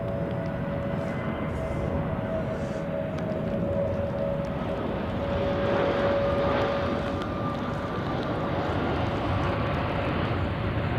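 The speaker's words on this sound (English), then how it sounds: "ILS runway 28, Airbus A380. Here it is." An Airbus A380 comes in to land at Zurich Airport on a crosswind day, a steady broad roar of jet engines with a faint whining tone that swells slightly as it passes, heard from a distance.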